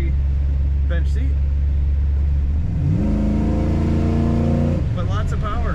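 A 1960 Chevrolet Impala Bubbletop's engine idles with a deep steady rumble, then revs up strongly in a rising climb that holds before dropping back, close and loud, with a voice briefly heard over it.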